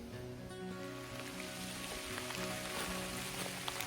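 Rain falls on a forested hiking trail on Mudlick Mountain in Missouri's Sam A. Baker State Park, a soft continuous patter of drops with faint scattered ticks nearby, heard alone at low volume.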